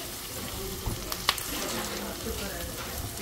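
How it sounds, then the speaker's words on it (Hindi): Mustard seeds crackle in hot oil during home cooking of bajias, a steady sizzle broken by a few sharp pops, close by. "जो राई है वो फट गई है, देखा आवाज आती है"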